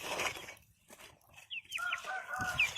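Farm chickens cluck and squawk nearby in short irregular bursts, with a higher shrill call partway through.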